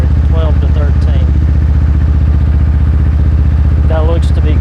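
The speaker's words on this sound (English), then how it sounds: "It's idling fast because we did a cold start." A used motorcycle engine idles fast and steady after a cold start, running at roughly 1500 RPM warm-up idle, a loud continuous throb close by throughout, with someone talking over it at the start and again near the end.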